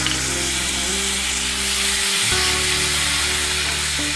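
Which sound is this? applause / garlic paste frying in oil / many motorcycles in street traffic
garlic paste frying in oil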